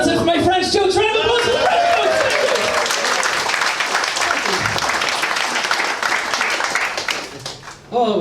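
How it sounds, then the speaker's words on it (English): A comedy club audience breaks into loud, sustained applause and cheering after a stand-up set of jokes, the clapping dense and close before fading out near the end, with voices mixed into the crowd noise. "Round of applause."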